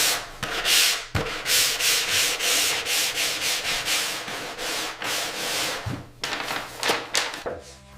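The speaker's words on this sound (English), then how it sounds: "this light sanding creates a mechanical bond for the next coat" Light hand sanding of a polyurethane finish on an oak bathroom vanity, steady back-and-forth rasping strokes in an even rhythm, close and clear, with a few knocks and taps between passes.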